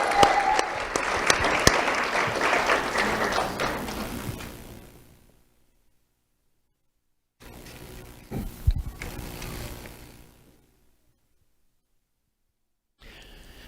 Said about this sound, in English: Let's have a round of applause for Renee Scalise.